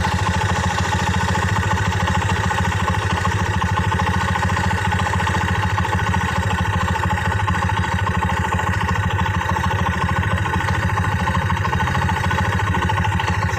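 A Honda Mega Pro motorcycle engine idles steadily during an ignition test with the spool unplugged, running on battery current through the CDI; a close, continuous clattering drone holds the same level throughout.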